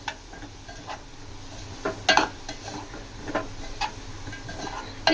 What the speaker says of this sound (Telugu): ఈ మొత్తం యాడ్ చేసుకొని కొంచెం అలా కలుపుకుందాం